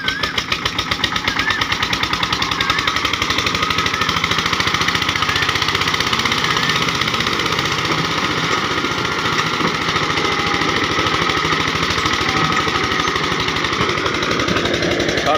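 A tractor engine chugs close by in a fast, even, pounding rhythm that holds steady and loud from start to finish, with no talk heard over it.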